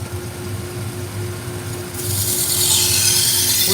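A knife blade rubbed on a sharpening stone to set an 18-degree bevel, a steady close gritty scraping that grows louder partway through, no voices.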